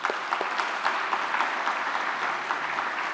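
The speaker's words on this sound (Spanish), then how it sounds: "Vamos a aplaudir a nuestro Señor Jesucristo." Congregation clapping together in a church service, a fairly quiet but steady round of applause with distinct individual claps audible throughout the short burst.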